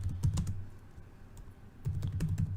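Quick bursts of keystrokes on a computer keyboard while entering a Linux command, close and clear, with a pause in the middle before another run of typing; no voices.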